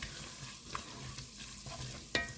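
Flour cooking in melted butter in a soup pot makes a quiet, steady sizzle with faint scrapes of stirring and one sharper clink near the end, with no voices.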